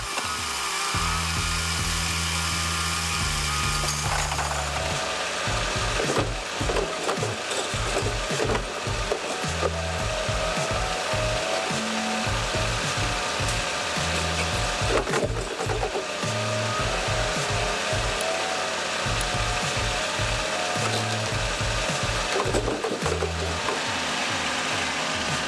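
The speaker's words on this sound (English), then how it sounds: "the task of this machine is to collect and transport to the nearest wood processing" A forestry wood-collecting machine runs continuously after logging, gathering and hauling timber, with a loud, steady mechanical drone and grinding, rubbing wood noises throughout.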